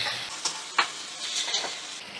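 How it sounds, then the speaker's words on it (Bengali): Rice, onion and ginger-garlic paste frying and being stirred in a pan over a medium flame, giving a soft steady sizzle with a few scraping stirs, fairly quiet and close. "এবার চাল, পেঁয়াজ আর আদা রসুন বাটা আমি ভালো করে একসাথে নাড়াচাড়া করে নেব।"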